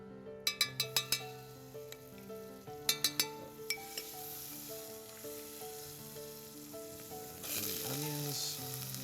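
Butter sizzles in a pan in a colonial-style kitchen. A few sharp metallic clinks of utensils come first, then a soft, steady frying hiss swells louder near the end.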